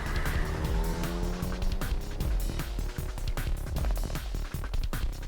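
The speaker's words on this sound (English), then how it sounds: "The taxi lurched into motion, the engine quickly revving up to speed." A taxi engine revs up in the video game 428, with a steady motor roar, rising pitch and squealing tires, at moderate, constant loudness throughout.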